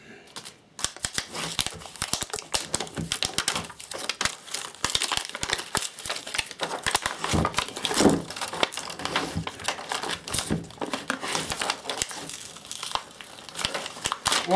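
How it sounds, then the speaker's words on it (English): A sticker peeled off a large, damaged 20,000 mAh lithium-ion battery with a plasticky coating, giving close, continuous crinkling and tearing crackles in quick irregular bursts, alone without talk. "Let's just take Owen's sticker off"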